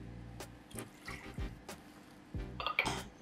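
Water poured into a pot while making choux pastry dough for cream puffs, coming as a few short, faint splashy pours with soft voices murmuring underneath.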